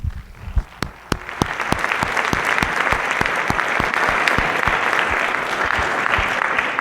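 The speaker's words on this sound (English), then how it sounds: "Can you give them a round of applause, please?" Audience applause in a school room at a winter band concert, starting with a few separate claps and swelling within two seconds into steady, dense clapping that holds to the end, with no talk over it.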